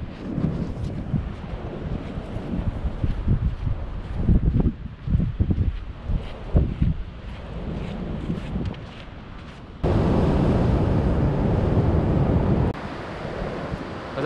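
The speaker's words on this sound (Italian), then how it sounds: "Mi sto godendo il mare." Sea waves breaking at the seashore, a steady broadband surf roar with gusts of wind noise buffeting the microphone, growing louder and more constant toward the end, with no talking.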